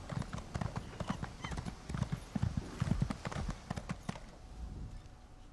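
Horse hooves clip-clop at a stable in the video game ESO, a quick uneven run of close hoofbeats that fades out near the end, with faint talk underneath.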